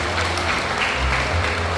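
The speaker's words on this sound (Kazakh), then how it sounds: "Шапалақ соғып қойсаңыздар қалай?" Wedding guests clap together in a short burst of steady applause, with a low musical hum underneath and faint voices in the hall.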